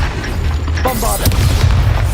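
Bombarda spell explosion in a Hogwarts video game, a loud deep rumbling boom filling the whole moment, with game sounds layered over it.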